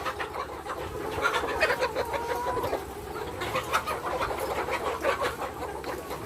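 Many laying hens cluck and chatter softly together in a steady, busy flock murmur, fairly distant with no standout calls.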